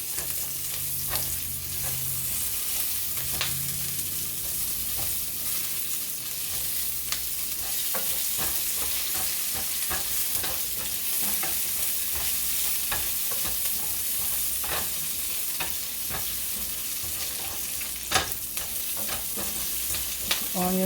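Chopped onion cooks in a pan for homemade burgers, a steady broadband sizzle running throughout with occasional scraping stirs and clicks, fairly close and even in level.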